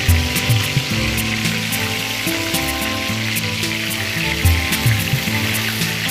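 Pointed gourd (potol) fries in a pan with a continuous bubbling sizzle and a busy, close crackle, with occasional stirring knocks.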